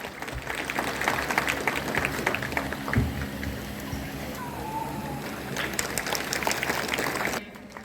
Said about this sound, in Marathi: कृपया आपण टाळ्या वाजवाव्या